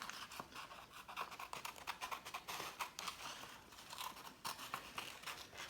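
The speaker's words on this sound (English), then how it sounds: "we're going to cut out our animals" Scissors snipping around paper animal shapes such as a starfish, a quick, continuous run of crisp close cuts with a steady choppy rhythm and no speech.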